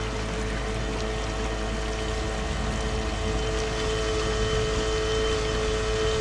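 An ECHO 58V powerhead engine on a kayak engine leg drives an 11 ft Cobra Explorer kayak at top speed, giving a steady, loud motor drone with rushing water and a sustained whine, no voices.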